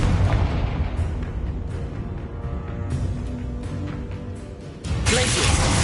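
Confringo fire spell blasts in Hogwarts Legacy, rumbling booms and crackling bursts over dense battle noise, ending in a sudden loud, sustained roaring explosion.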